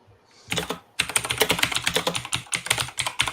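Rapid clattering keystrokes on a computer keyboard, close and fairly loud, come in uneven bursts of quick taps with brief pauses, after a short quiet start.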